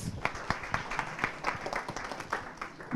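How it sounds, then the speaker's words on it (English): A small workshop audience claps briefly, a sparse run of individual hand claps at a moderate pace, fairly quiet and slightly distant. "I would like all of us to clap on this one, please."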